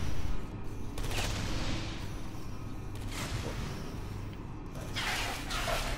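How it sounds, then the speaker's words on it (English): Bursts of gunfire in Portal 2 co-op come from a robot test chamber, with a few rattling volleys of moderate loudness spread through steady mechanical background noise and no talking. "Oh, you're getting shot at."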